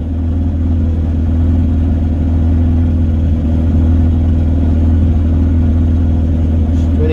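Speeduino-tuned Mitsubishi Eclipse engine held at a raised, steady idle near 2500 RPM. A loud, constant, close mechanical drone with a faint clatter and no clear rev changes.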